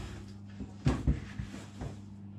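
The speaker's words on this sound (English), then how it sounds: "And then you just want to slide the door back in." A Beko fridge freezer door is slid back onto its hinge during a door reversal, giving two close, sharp knocks in quick succession followed by a softer bump, with faint room hum underneath.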